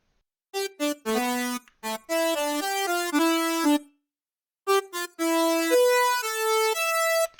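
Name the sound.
synthesizer lead melody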